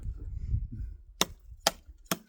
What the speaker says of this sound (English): when I'm out here chopping thorny branches